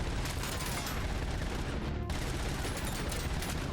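Continuous, dense gunfire rattles through combat in the video game Robocop: Rogue City, loud and sustained with no letup across the whole stretch.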